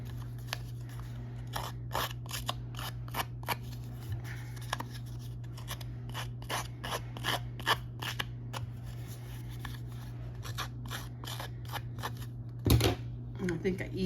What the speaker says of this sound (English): grab your scissors, rough up those edges.